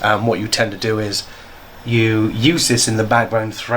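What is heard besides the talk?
No everyday noises stand out.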